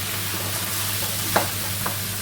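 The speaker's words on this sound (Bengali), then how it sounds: "আমি রুটির সঙ্গে একটা সবজি রান্না করতেছি পাঁচকলা শুকনো মরিচ আর তেজপাতা দিয়ে" Green banana frying in a pan with dried chili and bay leaf, a constant close sizzle with a couple of brief stirring scrapes.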